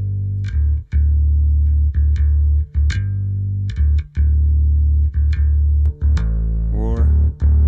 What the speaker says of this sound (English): now the distortion effects. That's subtle.